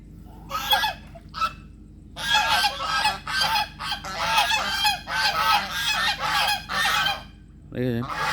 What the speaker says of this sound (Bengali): এই হাঁস, রাজহাঁস এখানে খেলছে, জলকেলি করছে